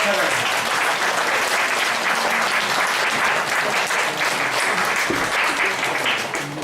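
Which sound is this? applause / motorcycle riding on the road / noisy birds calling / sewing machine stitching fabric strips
applause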